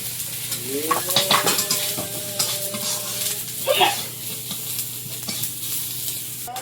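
Ground turmeric, coriander and other spices stirred into frying dal with tomato, grated ginger and salt, a spoon scraping the pot through loud steady sizzling, with a few clinks of metal.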